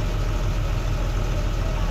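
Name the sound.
Ashok Leyland truck engine idling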